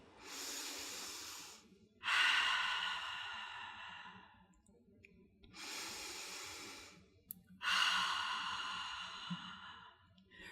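A person takes slow, deep breaths in through the nose and out through the mouth: three long airy exhales spaced a few seconds apart, close and soft, each followed by a quiet inhale, with no talk.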